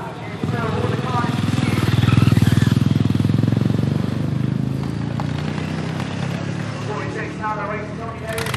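Racing lawnmower engines at the Barnstaple lawnmower Grand Prix in 2012, a loud buzzing roar that swells as machines pass close and then eases, with a commentator talking over the noise throughout.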